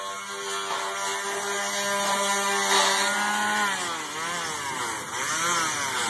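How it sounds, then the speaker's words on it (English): A power sander works over sections of a 70-foot steel tower being prepared for painting, giving a loud, steady, close whine with shifting pitch that runs unbroken throughout. "So you can see down here there's two more sections to be sanded, and Paul's sanding that now."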